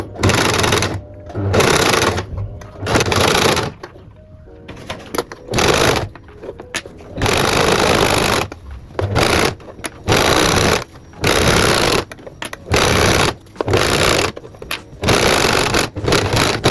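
Sewing machine top-stitching a boxy makeup pouch, running in repeated loud bursts of steady whirring separated by short pauses, with faint talk in between.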